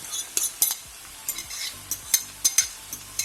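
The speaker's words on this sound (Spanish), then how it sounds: "Le voy a ir dando unas vueltecitas que vaya cuajando el huevo" A utensil scrapes and clinks in a pan as beaten egg is stirred over tender broad beans with ham, with irregular close scrapes and taps over a faint sizzle, and no voices.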